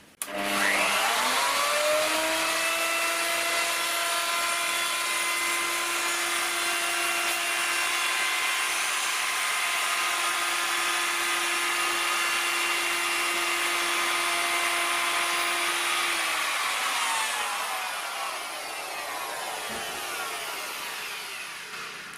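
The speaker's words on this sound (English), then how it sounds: "I'm also going to give the skirts a chamfer, and once again just leaving it short of the ends." A power tool chamfers the edges of wooden dining table skirts, spinning up with a sharp start into a loud, sustained high whine. It then winds down and leaves a quieter hum.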